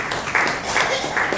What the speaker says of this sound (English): one round of big applause for Urmila